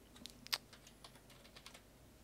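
Quiet, close keyboard typing: a handful of scattered key taps with one sharper clack, irregular rhythm.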